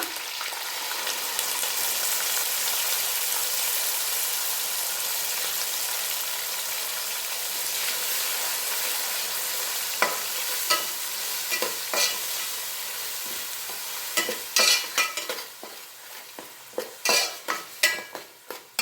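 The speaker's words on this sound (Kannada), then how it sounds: "ಈಗ ನಾವು ರುಬ್ಬಿ ಎತ್ತಿ ಇಟ್ಕೊಂಡಿರೋಂಥ ಮಸಾಲೆನ ಹಾಕಿಬಿಡೋಣ" Ground coconut masala paste added to a hot pan for mango chitranna, with a continuous loud sizzle and frying hiss that gives way to sharp spatula scrapes and metal clinks against the pan toward the end.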